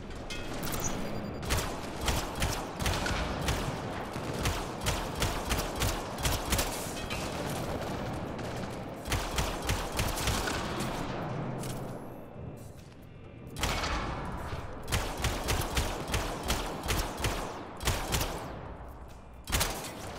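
Rapid bursts of automatic gunfire crackle through a Mass Effect Andromeda firefight, loud volleys in quick succession with short pauses and thuds between them, no voices.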